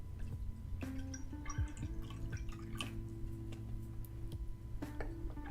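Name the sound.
pouring tea into a cup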